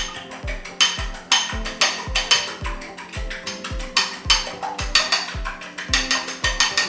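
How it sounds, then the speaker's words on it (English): A fork whisks eggs in a bowl for scrambling, a brisk, regular clatter of quick metallic taps and rattles close by, keeping an even rhythm for about seven seconds with no voices. "Just want to beat these up so there's no white parts."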